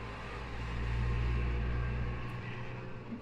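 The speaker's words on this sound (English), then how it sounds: "excuse the traffic noises" Traffic outside, a steady low rumble and hiss that swells as a vehicle passes and then fades, heard faintly indoors without talk.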